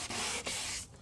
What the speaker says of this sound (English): You just keep sanding it for a little while